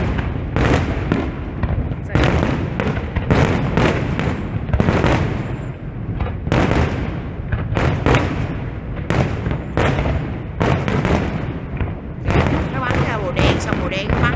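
New Year fireworks over a 2016 celebration burst in a dense, continuous barrage of loud cracks and booms, with overlapping explosions throughout and people chatting among the crowd.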